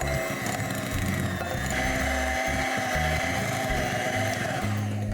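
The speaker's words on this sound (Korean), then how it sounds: "크렘 파티시에르랑 땅콩버터를 휘핑할 때 부드러운 상태가 됐다 할 때까지 좀 충분히 휘핑을 해주셔야" An electric whisk whips peanut butter into crème pâtissière, giving a steady, close motor whir with uneven low thumps as the beaters move through the thick cream.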